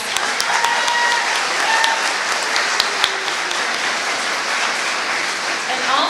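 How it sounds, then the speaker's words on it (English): Steady audience applause at an elementary all-county chorus event, dense continuous clapping from a large crowd with scattered sharper claps, holding at an even level throughout. "So give them a round of applause."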